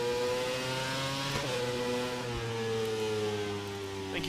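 A Formula One car screams around Albert Park on a hot lap. The engine note stays high and loud, climbs through the gears with short shift breaks, and holds close and strong throughout.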